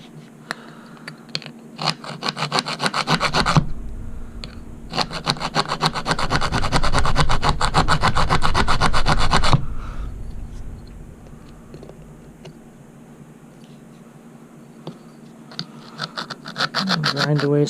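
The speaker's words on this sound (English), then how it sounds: "Grind away some of this too, just to be safe." A grinder bites into a lightsaber hilt part during assembly, two loud sustained bursts of grinding with broadband scraping, then quieter rattling handling and a motor whine between passes.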